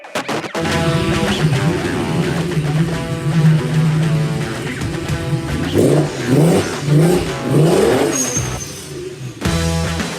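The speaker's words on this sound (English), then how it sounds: "Those car sounds were courtesy of Josh Maldonado" A car engine revs hard and accelerates, loud and close, with rising and falling engine tones, gear-change steps and a brief drop near the end before it picks up again.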